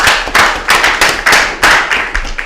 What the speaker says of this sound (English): Most High in Christ, clap it up.